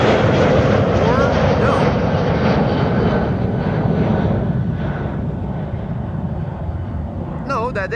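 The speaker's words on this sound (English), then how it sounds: "No, that is Delta Airlines Flight 161 entering" Delta Air Lines jet airliner entering the runway at Amsterdam Schiphol, a loud, rumbling engine roar that gradually fades over several seconds, with indistinct voices in the background.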